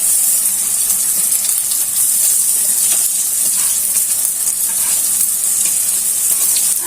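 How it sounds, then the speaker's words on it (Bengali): Broken rice is tipped into a pan of frying onion and potato, giving a loud, steady sizzle and hiss with faint stirring scrapes throughout, no voices. "এখন খুদগুলা দিয়ে দিচ্ছি। আগে থেকে পরিষ্কার করে দিয়ে রাখা খুদগুলো দিয়ে দিচ্ছি।"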